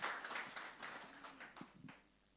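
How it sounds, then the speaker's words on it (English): Church congregation giving a clap offering during a sermon, a burst of scattered applause that starts loud and gradually fades out over a couple of seconds. "That deserves a clap offering to Jesus Christ."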